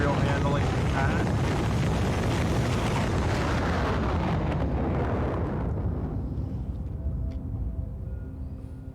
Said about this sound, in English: So we should have another rocket coming to landing pad 1 for material handling pad.